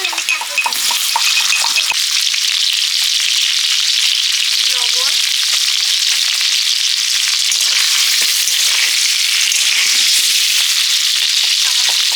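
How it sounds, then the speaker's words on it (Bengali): Potatoes fry loudly in hot oil in a pan for aloo kosha, a dense, steady sizzle with a few soft stirring clinks and taps near the start. "আলুগুলো ভেজে নিচ্ছি"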